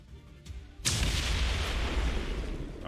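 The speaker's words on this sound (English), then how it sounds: "you're going to blow all of this up and destroy that turret for us" A video game turret is blown apart by explosions, with a sudden loud blast followed by a sustained roaring rumble of fire and debris that fills the rest of the moment.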